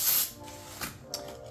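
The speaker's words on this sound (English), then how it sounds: "you're just gonna take some brake cleaner, spray it on, wipe it down" Brake cleaner is sprayed from an aerosol can onto a new brake rotor in a short hissing burst, followed by a couple of fainter spritzes nearby.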